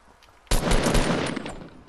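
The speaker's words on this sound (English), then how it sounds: "I'm being shot at, dude." Dense burst of rapid gunfire in the video game Fortnite, erupting suddenly after a quiet moment and continuing loud and sustained as overlapping shots for over a second.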